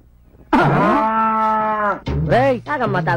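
A buffalo moos loudly and close by: one long, steady, drawn-out low call, then a short pause and a second, broken, wavering moo.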